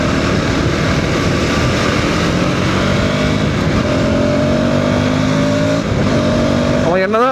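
A car engine roars loudly and steadily as the vehicle is pushed hard at speed, with a rising pitch sweep near the end and someone talking over the drone.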